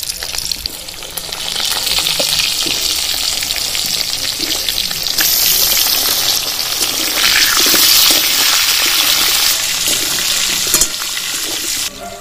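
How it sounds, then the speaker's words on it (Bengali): Cut potato pieces frying in oil for a ritha fish curry, a loud, continuous sizzle that swells midway with occasional stirring clinks. "এবার ভেজে নেবো আলুগুলো।"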